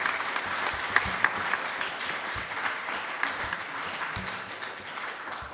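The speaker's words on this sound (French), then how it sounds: "je voudrais vraiment qu'on puisse vous applaudir" A church congregation claps together during a worship service, sustained and fairly distant applause with a steady even texture filling the whole stretch.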